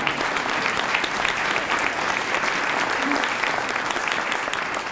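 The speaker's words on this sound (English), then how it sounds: "Please give a round of applause to" Audience at a medical missions gathering gives a round of applause, continuous dense clapping at steady loudness throughout, with no talk over it.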